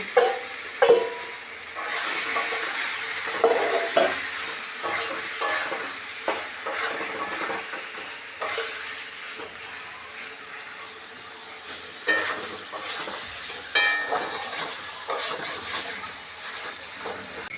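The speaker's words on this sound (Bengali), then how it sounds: "এখন আমি মাছগুলো এর উপর দিয়ে দিব, মশলার উপর একটু কষিয়ে নেব।" Sing fish frying in oily spice paste crackle and sizzle steadily while a spatula scrapes and stirs them in repeated rough strokes, close and clear with no voices.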